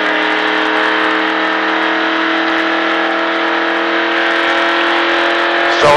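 A NASCAR stock car engine roars loud and close under acceleration, holding a sustained, steady drone for several seconds with no speech.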